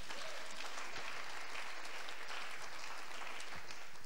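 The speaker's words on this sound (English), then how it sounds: "Somebody clap your hands" A church congregation during a sermon claps steadily for the whole stretch, a dense, even patter of many hands heard from across the room. No voices rise above it.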